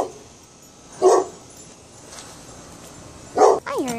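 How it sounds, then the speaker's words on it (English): A pet dog barks in two short, sharp bursts a couple of seconds apart, fairly close and loud, with a whimpering, yelping tail after the second bark. "Hershey, I'm trying to get my dog."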